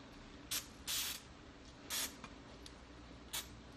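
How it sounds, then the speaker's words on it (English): Baking spray hisses onto a cookie tin in four short bursts, two brief and two longer, close and crisp against a quiet room. "we're going to spray it with baking spray so that it doesn't"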